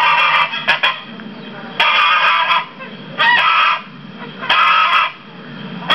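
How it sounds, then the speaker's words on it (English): Geese honk loudly and close by at a farm orchard, giving four bursts of harsh, nasal calls separated by short pauses, with no talking. "here are some geese"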